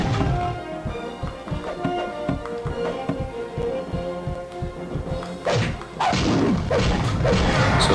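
A special attack in the arcade game Gauntlet Legends strikes groups of enemies, producing a rapid series of heavy thuds and smashing crashes over game music, building into a louder dense burst toward the end.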